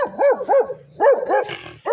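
A dog barks several times in quick succession, close and loud, with a short pause between bursts, outdoors beside a marsh in spring.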